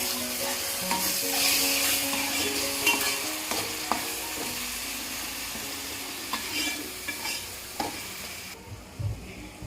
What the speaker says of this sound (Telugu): ఇప్పుడు ఇందులో అల్లం వెల్లుల్లి పేస్ట్ వేసుకొని పచ్చివాసన పోయే వరకు వేగనివ్వాలి.